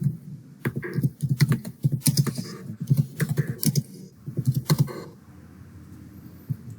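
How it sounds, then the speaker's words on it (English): Close, crisp typing on a computer keyboard comes in quick bursts of keystrokes with short pauses between them, then stops for the last couple of seconds. "let's type download Azure CLI"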